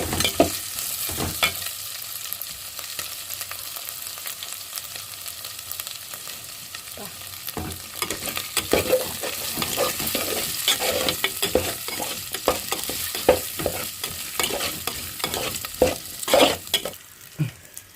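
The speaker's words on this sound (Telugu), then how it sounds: "దాన్ని వేసుకొని బాగా తిప్పేసుకోవాలి" Boiled chicken pieces being stirred in a pan with a tomato-onion paste, giving a steady scraping stir over a soft sizzle, with repeated closer spoon strokes in the second half and no talking.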